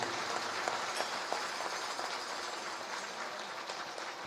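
A large seated audience of pilgrims at a religious gathering applauding loudly, a dense, steady roar of clapping that holds throughout.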